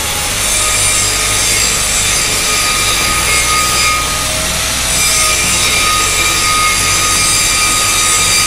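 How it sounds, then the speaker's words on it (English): Angle grinder flattening a weld bump on 8-inch steel pipe, a loud continuous abrasive whine and grinding roar that holds steady throughout with slight shifts in pressure, close up and with no talking. "just take your grinder and just kind of flat top it a little bit, get it down even with the rest of it"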